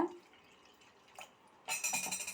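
Water poured from a measuring cup onto soaking semolina for rava bun uttapam batter, a short, bright splashing pour near the end after a quiet stretch with a faint drip.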